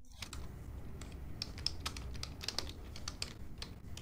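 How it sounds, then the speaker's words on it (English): Quiet, steady clicking of computer keys being typed, a rapid irregular patter of light taps close by. "Can always hear Scott typing away, the little click on the keyboard."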